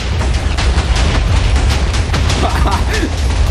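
A Minecraft explosion as a player's own charcoal blows up, a loud, dense roaring burst sustained for a few seconds, with voices talking over it.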